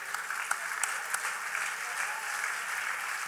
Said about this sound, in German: ihr dürft gerne nochmal klatschen für Nils Fließhardt